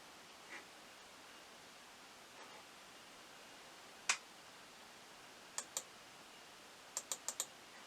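A computer mouse clicking in a quiet room: sharp, faint, isolated clicks, one alone, then a pair, then a quick run of four, over a soft background hiss.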